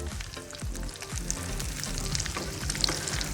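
Chicken shami kabab patties sizzle steadily in hot oil in a pan, a continuous close frying hiss with faint crackles and no voices.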